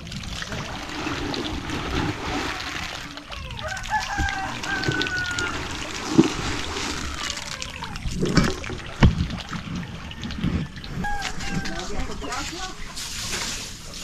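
Roosters crow and hens cluck over a busy outdoor background with splashing water, while a person talks nearby.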